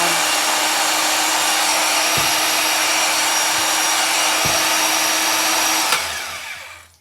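A Milwaukee 6230 portable band saw mounted on a Harbor Freight Hercules stand runs with a steady, loud, close motor whine and blade hum, then winds down and fades near the end.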